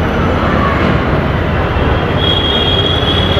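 A train rolls past the Malibagh rail gate, heard from a showroom beside the line, a loud, close, continuous rumble of wheels with a rising metallic squeal near the end.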